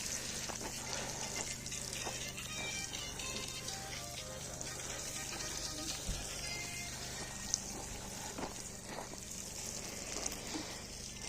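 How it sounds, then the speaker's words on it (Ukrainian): Freshly sown cucumber seeds in a garden bed are watered, producing a soft, continuous spattering hiss of water falling on soil that stays faint and steady throughout, with no talk. "Розсипала насіння вже по і тепер ще зверху пролию"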